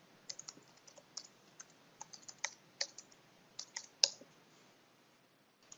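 Quick, uneven keystrokes on a computer keyboard as a password is entered, faint and close, with irregular bursts and short pauses between clicks and no voices.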